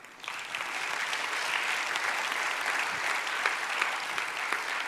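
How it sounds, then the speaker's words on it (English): An audience breaks into sustained applause, a dense, steady wash of clapping that holds at an even level throughout with no voices standing out. "let's give a round of applause for all the education we received"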